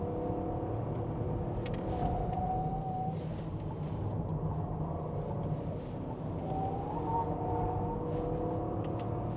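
A 2025 Renault Austral full hybrid E-Tech 200 hp moves on electric power, heard from inside the cabin as a steady low road rumble with a faint tonal whine and no engine revving.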